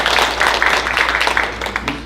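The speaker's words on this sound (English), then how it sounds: "Applause for Nick" An audience at a Taiwan Relations Act anniversary symposium applauds steadily for a couple of seconds, a dense patter of many hands at moderate loudness.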